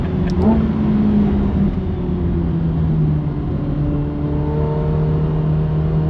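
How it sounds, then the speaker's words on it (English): A McLaren 750S engine roars steadily under load, its pitch climbing as it accelerates hard, loud and close, with a constant rumble of road noise. "it goes on fire when you push that loud pedal"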